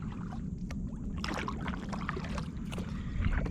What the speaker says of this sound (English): I don't want to spook them, so I paddle out away from the shore